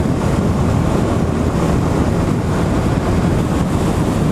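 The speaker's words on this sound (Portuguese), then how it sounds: "Eu ouço o barulho do vento, mas não ouço o barulho do motor." Steady, loud wind roar buffets the microphone from start to finish, a dense broadband rush with no voices over it.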